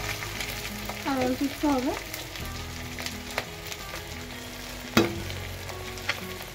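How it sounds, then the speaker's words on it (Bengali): Chitol fish frying in hot oil gives a steady, close sizzle. A voice speaks briefly near the start, and a sharp utensil clack comes near the end. "দেখো বন্ধুরা, মাছের ফ্রাই হয়ে যাচ্ছে"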